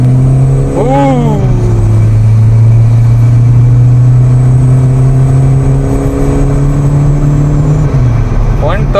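A remapped car accelerating hard at full throttle, heard from inside the cabin as a loud, steady engine drone that climbs in pitch, drops with a gear change and climbs again, with brief voices near the start and end.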